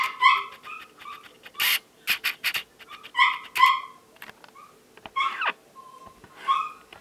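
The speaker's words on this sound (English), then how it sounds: "Dog is making noise." A dog indoors whimpers and yips in short, high, repeated bursts with brief pauses between them, close and fairly loud against a quiet room.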